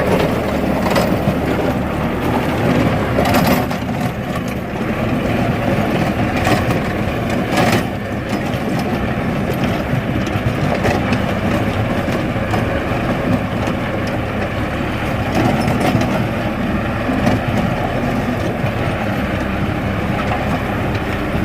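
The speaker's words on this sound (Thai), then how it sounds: "เสียงเครื่องยนต์นิ่มมากนะ" LOVOL 90 hp tractor engine idling low at about 1,500 rpm while driving a rotary tiller, a steady, smooth, continuous rumble close by with faint clunks and rattles, no talk.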